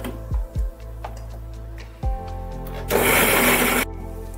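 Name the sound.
grinding poppy seeds and sesame with milk in mixer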